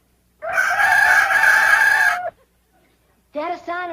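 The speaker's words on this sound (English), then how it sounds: "Rooster crows before he goes to bed." Rooster crowing close and loud, one long drawn-out crow followed after a short pause by the start of a second.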